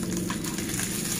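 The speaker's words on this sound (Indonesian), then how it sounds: "Nah, kini nyong sudah mulai menggoreng goreng iwak kembung." Mackerel frying in a little oil in a home kitchen, giving a steady, soft sizzle that continues without a break.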